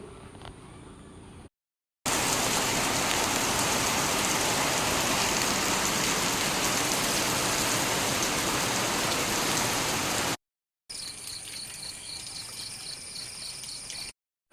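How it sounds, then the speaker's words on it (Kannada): Heavy rain falls steadily in the early morning near a cattle shed, a dense continuous roar lasting several seconds, then a softer stretch of rain with a faint high insect whine. "ಇವತ್ತು ನೋಡಿ ಹೇಗೆ ಮಳೆ ಬರ್ತಾ ಇದೆ"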